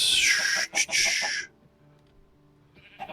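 Chickens in the video game Minecraft Sky Factory 4 give a few loud, close bleating clucks in quick succession, then fall quiet to a faint background hum before another soft call starts at the end.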